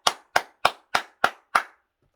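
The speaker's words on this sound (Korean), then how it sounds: "주님께 영광의 박수합시다." Six sharp, evenly spaced claps ring out from a church congregation giving praise, loud and close, ending in silence.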